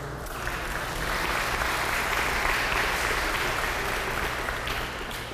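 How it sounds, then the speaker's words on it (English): A mosque and community centre audience breaks into sustained applause for an ambassador of Sudan and his wife, a dense wash of clapping that starts after a brief pause and holds steady, loud and close, to the end. "Can we have a round of applause for them?"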